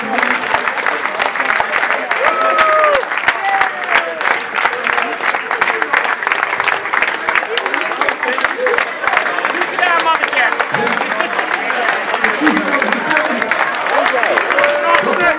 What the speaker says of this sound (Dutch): onder luid applaus binnengehaald op het Schouwburgplein in Venray